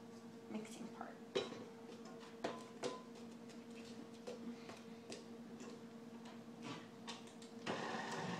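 A stand mixer beats cookie dough in steady motorized whirring with irregular clicks and knocks from the beater, a sustained even hum throughout, growing slightly louder near the end.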